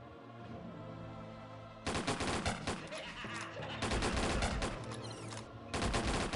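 Shotgun blasts from a Gunslinger character in Ragnarok Online come in loud, dense repeated volleys with brief gaps between them, over a quieter looping game soundtrack.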